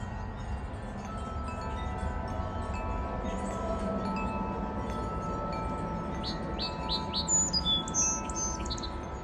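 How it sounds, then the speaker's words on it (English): Small bird calls and short song phrases from a song sparrow in a backyard, faint and fairly distant, rising near the end over a steady low outdoor hum with no talk. "There's a song sparrow real quick."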